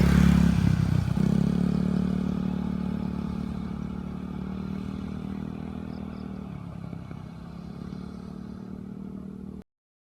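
Idling engine of a fuel-injected Barako 3 motorcycle while an OBD2 scanner loads: a steady low hum with mechanical clatter and whir, loud at the start and easing slightly, then cutting off abruptly near the end.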